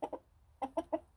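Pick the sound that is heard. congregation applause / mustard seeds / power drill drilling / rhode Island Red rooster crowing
rhode Island Red rooster crowing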